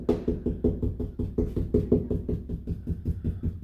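Knocking on a hollow wall beside a stud, near a water heater's access panels: a steady series of close, dull hollow knocks in quick rhythm, about four per second, with no talk.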